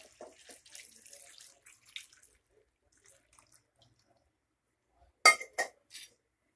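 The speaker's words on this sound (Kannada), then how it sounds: "ಈಗ ಅರ್ಧ ಲೀಟ್ರು ನೀರು ಹಾಕ್ಕೊಳ್ಳಿ." Water is poured into a pressure cooker holding chopped amaranth greens, heard as faint trickling at first and then a couple of short, louder splashing bursts.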